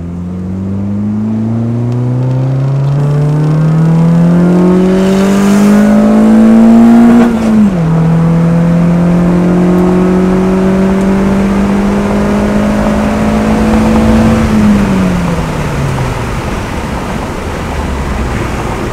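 A car with a Honda B20 engine accelerates hard onto a freeway, engine note climbing steadily, dropping briefly at a gear change, then rising again through second and third before easing off, loud and close with road and wind noise.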